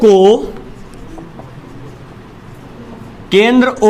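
Marker or chalk writing on a classroom board during a Class 10 circles maths lesson, a soft scratchy rubbing between a teacher's spoken explanations at the start and end.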